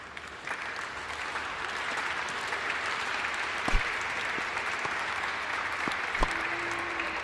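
Audience applause in a PSVR2 VR tennis video game, a steady broadband wash of many hands clapping that holds evenly for several seconds, moderately loud, with a few sharper game clicks and a brief tone late on.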